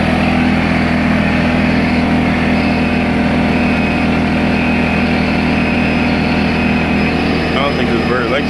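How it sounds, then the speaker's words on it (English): An air compressor powered by a 2000 watt inverter runs at a loud, constant drone throughout, steady and close with no pauses. "Compressor."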